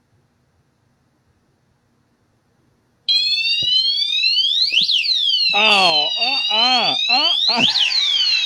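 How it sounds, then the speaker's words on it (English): Motion detector alarm in a hallway: after a few silent seconds, a loud electronic warbling siren suddenly starts and sounds continuously, with a brief spoken exclamation. "Just walk right past that white box and an alarm will go off."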